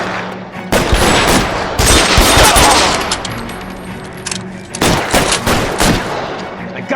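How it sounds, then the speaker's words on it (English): Bursts of gunfire from the video game L.A. Noire: loud, rapid automatic volleys crackle in two main stretches with a lull between, the shots close and harsh. "Lay down some covering fire."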